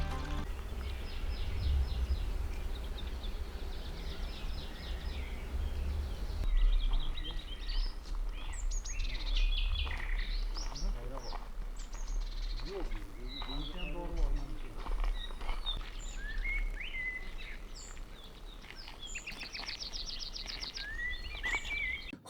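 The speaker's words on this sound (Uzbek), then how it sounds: "har xil qushlarning ovozini eshitasiz, ayniqsa bulbul ovozini." Nightingales and assorted birds sing in a regrowing forest, bright chirps and warbled phrases scattered across the clip at moderate distance, with croaking and insect hum in the background and no talk.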